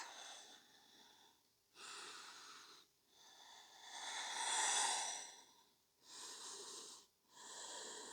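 Slow, steady breathing during a yoga stretch, with several long airy inhales and exhales spaced by short pauses, one breath longer and fuller than the rest, close and soft.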